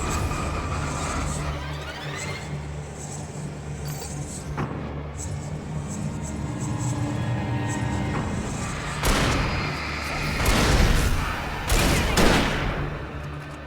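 Video game gunfire in Alan Wake on PC cracks out in several loud bursts over a rumbling engine-like background, with the sharpest shots coming near the end.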